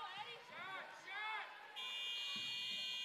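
The end-of-shot buzzer at a women's NJCAA Region 2 basketball tournament game blares as a long, steady electronic tone, following commentator talk over a faint arena crowd.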